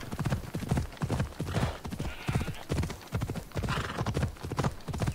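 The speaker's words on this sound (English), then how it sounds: "I think now it's spur the horse." A horse being spurred to a gallop in the Assassin's Creed Odyssey video game, rapid rhythmic hoofbeats pounding close and loud throughout, with a brief whinny-like snort mixed into the steady beat.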